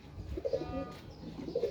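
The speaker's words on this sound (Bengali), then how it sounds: "ছাদে আমার এক ভাতিজা আবার কবুতর পালে" Pigeons on a rooftop give soft, rolling coos in two short bursts, close by against faint background noise.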